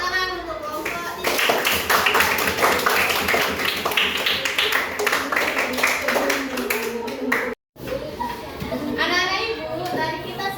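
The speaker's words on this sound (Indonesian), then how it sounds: "Tepuk tangan untuk kelompok 3." A class of schoolchildren claps for a student group after their presentation on descriptive text in an Indonesian-language lesson: dense, loud, sustained clapping lasting several seconds, with children's voices calling out over it before a brief cut.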